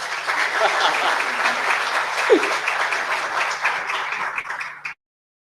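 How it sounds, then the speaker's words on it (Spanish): An audience at an afternoon event in Argentina bursts into steady, dense applause to welcome a speaker. The clapping holds at an even level for about five seconds, then cuts off abruptly. "Lo recibimos con un aplauso,"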